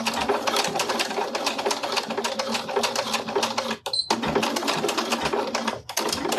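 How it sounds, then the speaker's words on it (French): A sewing machine stitching a fabric tab for a zippered pouch runs in loud, rapid, steady bursts close up, with two brief pauses as the stitching stops and restarts. "je me refais un point parce que j'ai pas du tout sécurisé ma couture du début"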